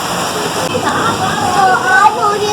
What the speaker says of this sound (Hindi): तेज बारिश हो रही है और देखिए कितनी गरज चमक के साथ हो रही है